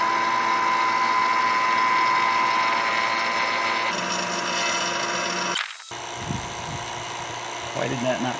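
Steady mechanical whine of a vacuum pump evacuating a car AC system, loud and continuous, with a sudden cutoff and shift partway through and faint voices afterward.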